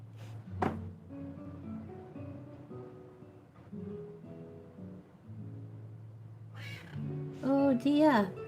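A cat meows in an art studio, with a couple of drawn-out, rising meows near the end over soft background music and low room noise.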